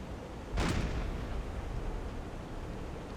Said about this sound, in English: despite the incredible volume of gunfire coming from our U-boat